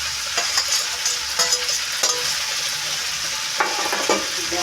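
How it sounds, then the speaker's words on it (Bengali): Fried fish heads broken into a vegetable chorchori and stirred in a hot pan, a steady loud sizzle with repeated scraping strokes of a spatula, close and with no talk. "মাছের মাথাগুলো এখানে এই ভেঙে নিয়ে চচ্চড়ির মধ্যে দিয়ে দিচ্ছি"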